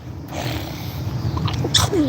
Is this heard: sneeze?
yes